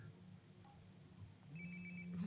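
A phone rings close by in Life is Strange: Before The Storm, faint repeated electronic tones that grow a little louder toward the end.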